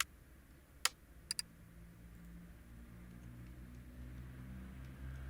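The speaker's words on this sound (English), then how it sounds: "Yes, I'm typing. You can like hear the keyboard." A few sharp key clicks near the start, then quiet faint tapping over a steady low background hum.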